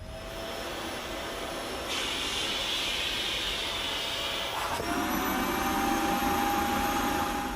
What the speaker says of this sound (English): all of a sudden the vacuum sounded like it was doing a lot more work